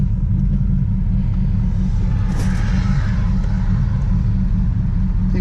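An Olds 442 fitted with a Chevy 383 crate engine accelerating on the highway, a loud, steady low-pitched rumble heard from inside the car, with a brief rise in engine roar midway.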